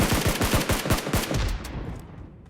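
Rapid gunfire in the PUBG Mobile video game: a loud, fast burst of around ten evenly spaced shots, then a few scattered reports as the echoes tail off.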